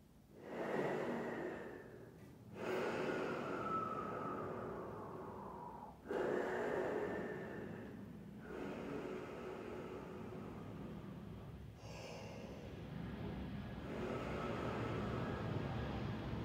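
Tuba students in a class do a deep breathing exercise: long, loud inhales and exhales with a rushing, airy sound, each breath close and sustained and separated by short gaps.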